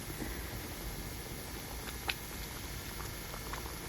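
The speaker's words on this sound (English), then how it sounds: "we put it in the pan, in the wok, and yeah, I'm stirring" Rice in water is stirred in a wok for rice porridge, giving a faint, steady bubbling patter with one brief scrape near the middle and no talk.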